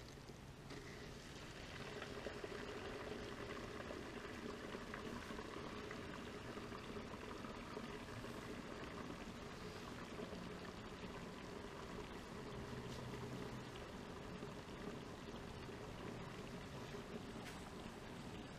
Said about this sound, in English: So now we're ready to open this valve, which will start pulling coolant